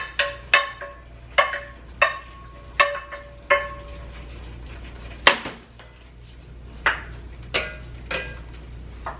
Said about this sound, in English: So I'm going to go ahead and add the sauteed veggies that are in this skillet.